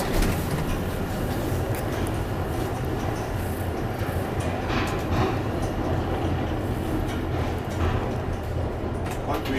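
A metro train runs at an underground platform in Helsinki, giving a steady, fairly loud rumble and rattle throughout. Faint voices can be heard now and then beneath it.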